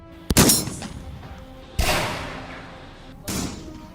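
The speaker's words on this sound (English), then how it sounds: "Gunfire has a distinctive sound" Three loud, sharp bangs spaced over a few seconds, each with a short echoing decay, like gunshots fired indoors.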